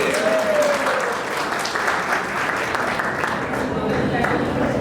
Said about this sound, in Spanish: pueden aplaudir como cuando el pueblo te ríe.